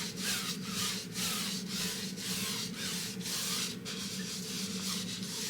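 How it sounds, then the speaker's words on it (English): A paintbrush scrubs and grinds oil paint into canvas fabric in a Bob Ross-style landscape, a close, rhythmic scratchy rubbing repeated at a steady pace, about two strokes a second. "I'm just grinding this stuff right into the fabric here"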